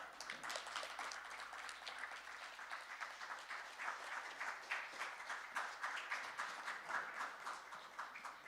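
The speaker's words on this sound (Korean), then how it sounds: "큰 박수로 맞이해 주시기 바랍니다" A conference audience at a patent court event applauds continuously, a dense, even patter of many hands clapping that is fairly faint and heard alone throughout.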